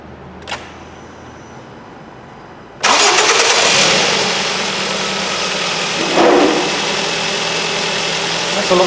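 A Ford Focus 1.8 petrol engine cranks and catches with a sudden loud burst, then settles into a steady, fairly loud idle with a brief swell in revs partway through; a faint click comes before the start.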